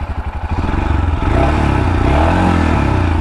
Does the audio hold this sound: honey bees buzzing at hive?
no